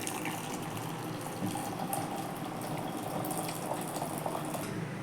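Cooking water splashes and pours steadily from a pot into a sink, a continuous close rushing sound with no voices.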